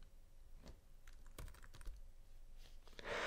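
Keys clatter on a computer keyboard as a full name is typed at a ship's access terminal, a short irregular burst of close, quiet keystrokes with no voices.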